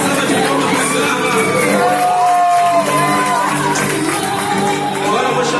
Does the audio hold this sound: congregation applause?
yes